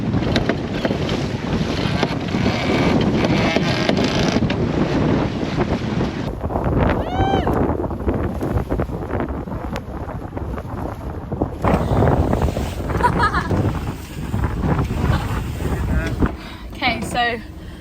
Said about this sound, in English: the wind as we're coming out the Solent or down the Solent is steadily building